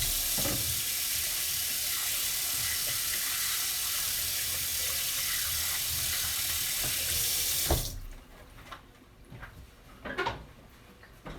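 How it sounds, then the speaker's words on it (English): Tap water runs steadily into a sink while hands are washed in a home kitchen before dumpling making, then the flow shuts off, leaving a few faint splashes and clinks. "now I'm washing my hands"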